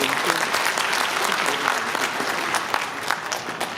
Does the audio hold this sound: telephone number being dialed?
no